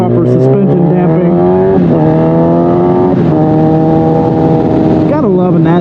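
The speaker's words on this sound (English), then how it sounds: "Gotta love a nasty sounding inline 4, though, I tell you what." A stretched Kawasaki ZX-10R's inline-four engine snarls loudly and close, revving up and down through gears with rising and falling pitch sweeps, a harsh, nasty-toned howl dominating throughout.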